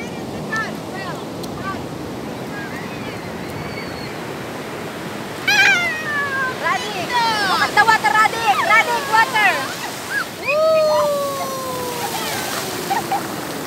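Beach surf and rushing water at Soori resort form a steady wash, overlaid midway by high-pitched squealing voices and excited shrieks that rise and fall above the waves.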